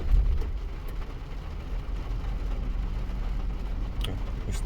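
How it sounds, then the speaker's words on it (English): Car engine idling steadily with a low, rumbling vibration after being started, a continuous deep hum with no talking. "Start the car."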